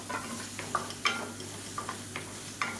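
Sliced capsicum sautéing in masala in a pan, a quiet steady sizzle broken by a few sharp clicks and taps of a spoon stirring against the pan.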